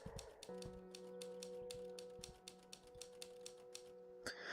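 Typewriter keys clack in a quick, steady run inside the video game The Novelist, with a low mechanical hum beneath and a louder carriage-like clunk near the end.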